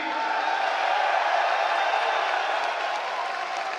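Crowd ovation at a UFC pre-fight press conference in Miami: a steady, roaring wash of cheering and applause from a large audience, sustained and fairly distant-sounding without pauses.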